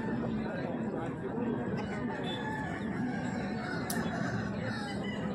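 Rooster crowing amid a noisy village poultry market in West Bengal, where Aseel cocks about two years old and 3.5 kg are on show; the crow is moderately distant and partly buried under constant crowd chatter and bustle.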